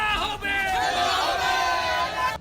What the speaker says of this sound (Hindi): टीएमसी के समर्थक भीड़ जुटाकर नारेबाजी करते नजर आए